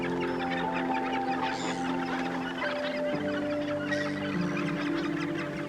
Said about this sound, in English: gannets fly all the way here from Africa to breed